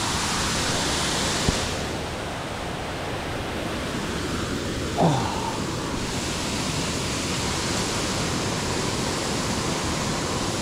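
A waterfall at Old Stone Fort State Park, heard from the cliff edge above it, gives off a steady broad rush that stays even throughout, with a brief exclamation from a person partway in.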